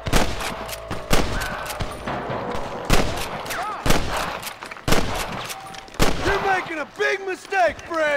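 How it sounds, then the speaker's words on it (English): Gunfire in the video game Red Dead Redemption, a rapid series of sharp, loud shots in irregular bursts, mixed with shouted voices and game sound effects. "I can hear more gunshots."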